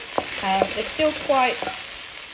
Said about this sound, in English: we've got the onion, the capsicum and the chilies in there sizzling away